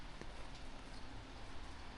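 Steady rain hisses down in a continuous wash of patter in Namyangju, near Seoul, in cherry blossom season, with no talking.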